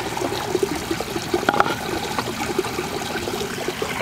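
Water pours and trickles through a goldfish pond's waterfall filter beneath a plastic rock cover, a close, continuous splashing flow with no speech.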